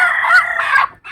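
Rooster crowing, a single loud, close cock-a-doodle-doo lasting about a second, ending abruptly before a brief restart.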